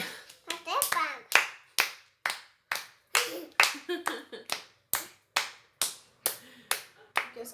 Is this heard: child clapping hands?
yes